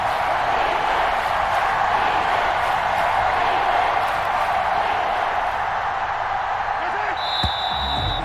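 Roaring stadium crowd in a Madden football video game, a dense continuous wash of cheering that stays loud and steady throughout, with a brief whistle-like tone near the end.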